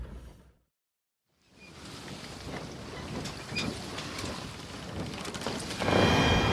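Steady wind buffeting a microphone, a roaring rush that starts after a brief silence and grows stronger near the end.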